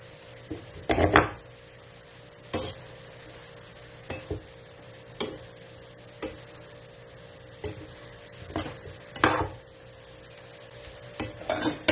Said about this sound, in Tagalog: ilagay na natin yung breast chicken. Ayan, haluin siya.